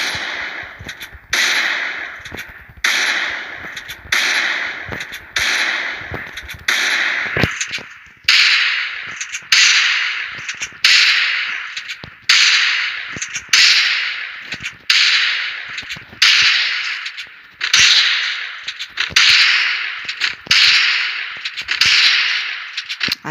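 Desert Eagle pistol firing in the Free Fire video game: a long run of sharp, evenly spaced shots, loud and close, each with a quick bright crack and short decaying tail, repeating steadily with no talk.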